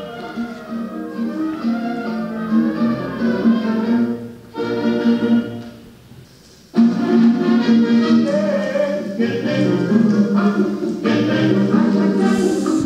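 Vinyl record of a 1946 Cuban son song plays in a Bogotá salsa bar, with vocals over guitar and percussion, a brief dip in the middle, then fuller and louder.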